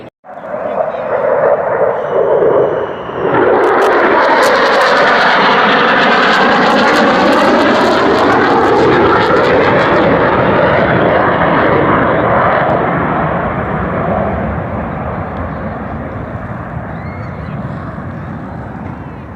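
F-18 Growler twin-engine military jet roaring past overhead, a loud, sustained engine rumble that swells, sweeps in pitch as it passes and slowly fades while staying powerful throughout.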